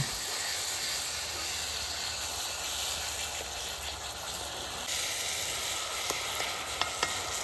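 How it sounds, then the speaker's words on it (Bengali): Spices such as turmeric, cumin and coriander powder with a pinch of sugar and a splash of water, stirred and frying in a pan for a village-style Bengali fish curry. A steady, close sizzle and hiss runs throughout, with a few faint scraping clicks near the end. "সামান্য একটু জল দিয়ে কষিয়ে নেব।"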